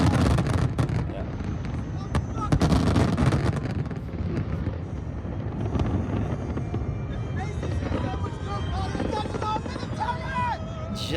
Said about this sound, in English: I guess New York knows how to do a big firework display